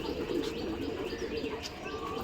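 Pigeons, young birds among them, coo steadily near a loft, a low continuous murmur of calls with occasional chirps and wing flaps, fairly close and without clear speech.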